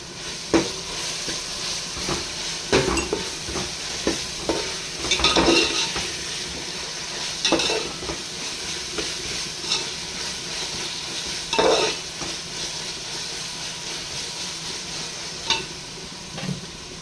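Bay leaves and green chillies fry and sizzle in a pan with garlic and mint, with steady crackling, stirring scrapes and occasional spoon knocks on the vessel, close and fairly loud, no talking.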